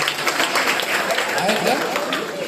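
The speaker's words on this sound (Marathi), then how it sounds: "टाळ्या वाजवत त्यांच्यासाठी" Audience at a village school event applauding, a dense, continuous patter of clapping with voices mixed in underneath.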